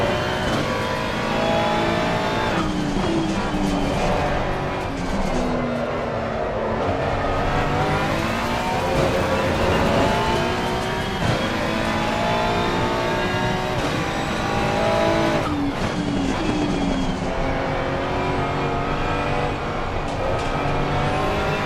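Race car engine in a sim-racing game on the last lap, loud and continuous, revving up and down through gear changes with a steady high-pitched whine and occasional tire squeal, no talking over it.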